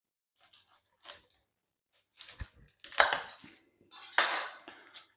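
A knife cuts a garlic bulb in half on a board with a handful of short, crisp crunching strokes and taps, close and clear against an otherwise silent background.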